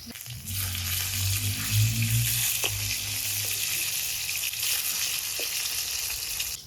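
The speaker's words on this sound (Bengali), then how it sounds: "মাছের এক পিঠ ভাজা হয়ে গেছে এখন উল্টে অন্য পিঠ ভেজে নিন" Large pieces of rui fish fry in hot oil in a wok with a loud, steady sizzle and low rumble, punctuated by a few brief clinks as the pieces are turned.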